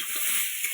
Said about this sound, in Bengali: কাঁকড়াটাকে ভেজে নে।